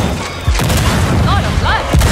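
A grenade blasts in the video game Second Extinction as a loud, close, booming burst with a heavy thump, layered with game noise and a shouted voice.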